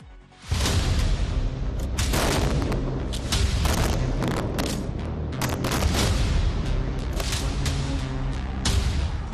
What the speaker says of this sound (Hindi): गाजा पर भीषण बमबारी